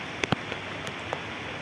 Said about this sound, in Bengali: কিন্তু বৃষ্টিটা কমে গেছে।